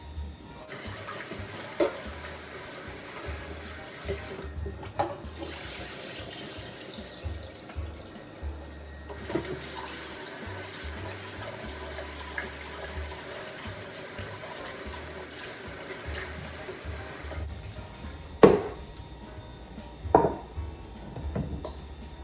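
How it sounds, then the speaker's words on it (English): Rice being washed in a pot under a running tap, with water splashing and swirling in bursts, intermittent clunks of the pot, and the flow stopping and starting again. "I put 2 cups of rice in this pot, so I'm going to wash it."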